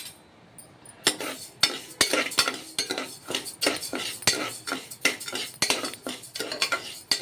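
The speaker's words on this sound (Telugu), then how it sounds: "ఇది ఇలా కలుపుతూ కొంచెం వేయించుకోవాలి." Rice stirred while dry-roasting in a pan over low flame for hot pongal: a steady run of sharp spoon scrapes and clinks against metal, close and fairly loud, with no voices.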